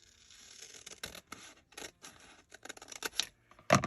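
Scissors snip through paper while a journaling page is being trimmed, giving a series of short, close, crisp cuts with brief pauses between them and a louder final snip at the end.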